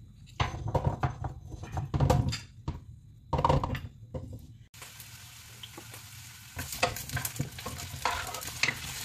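Carrots and potatoes browning in a hot pan for chicken caldereta, with a steady close sizzle broken by repeated bursts of stirring and scraping, alone without voices.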